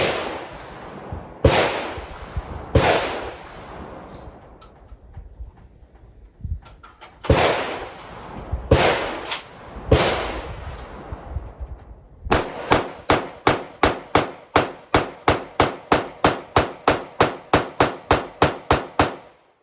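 A VR80 shotgun fires 1 ounce 1200 loads outdoors with loud, sharp reports, first as a few spaced shots and then as a rapid string of about a dozen evenly paced blasts.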